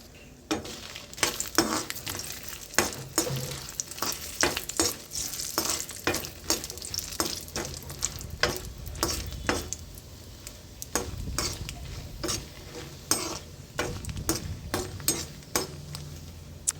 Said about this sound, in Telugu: ఇప్పుడు ఆయిల్ అయితే కాగిపోయింది. దీంట్లో ఎండుమిర్చి అయితే వేసి వేయించుకుంటున్నాను.